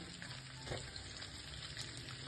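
Smoked pork belly and sliced onion fry in a pan while being stirred, giving a soft, continuous sizzle with a faint scrape of stirring, quiet and close, with no voices.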